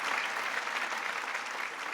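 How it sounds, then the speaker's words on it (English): Comedy club audience claps and cheers for a new comic taking the stage, a dense, even burst of applause lasting a couple of seconds without speech. "big round of applause for Akshay"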